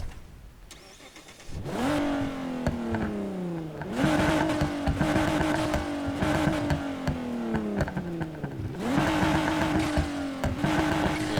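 A pickup truck's engine fires up and revs repeatedly in the video game Need for Speed Heat, each rev rising then dropping, with a rumbling tuned exhaust tone, loud and close.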